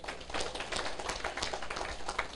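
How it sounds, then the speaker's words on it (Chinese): Audience clapping hands steadily throughout, a dense continuous patter of applause in a lecture hall during a Taiwan Civil Government self-governance training session. "拍拍手咧，较紧。"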